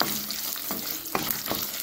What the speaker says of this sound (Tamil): இப்போ ஸ்டவ்வு மிதமான தீ வச்சு இப்போ வறுத்து விட்டுக்கலாம்.